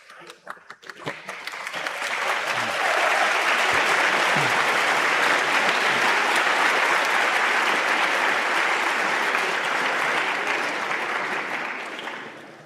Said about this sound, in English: give a round of applause to your families